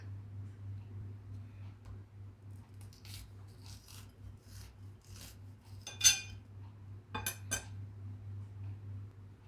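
A knife slices kernels off a washed corn cob for a Thai coconut corn pudding. A few faint, short scraping strokes come in uneven bursts over a steady low hum, with one sharper rasp in the middle.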